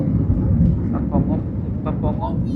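An airliner cabin fills with a steady, loud low engine roar as the plane gets ready to take off, while people talk over the rumble throughout.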